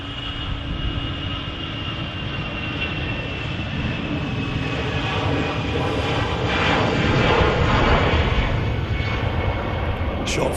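EasyJet airliner jet engines at Manchester Airport, a steady broad roar that swells slightly toward the end, with faint talk underneath.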